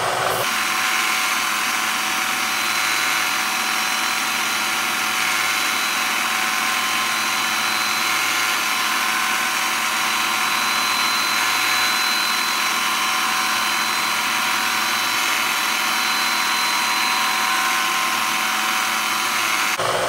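A steady, high-pitched whine of drilling a hole on a 9x20 lathe converted to CNC, running continuously and loudly at close range with no pauses.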